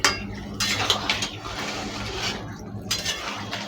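A metal pot lid clanks off and a utensil scrapes and clinks against a pan while cumin paste is stirred, close and moderately loud with irregular metallic taps.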